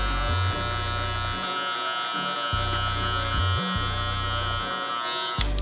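Electric hair clippers fitted with a half guard, lever set at the three-quarter position, buzz steadily while blending a mid fade, the motor tone shifting slightly as the blades move through hair in short passes.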